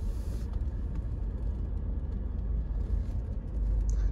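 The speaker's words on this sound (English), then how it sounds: "It's also a very quiet engine, not as loud as the Brabus 8-cylinder." A Mercedes G350d G-Class diesel engine drives at low, steady speed, a quiet, constant rumble of road and engine noise heard from inside with no talking.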